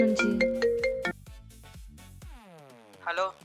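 A mobile phone ringtone plays a short, bright repeating melody for about a second at close range indoors, then stops as voices and household sounds follow.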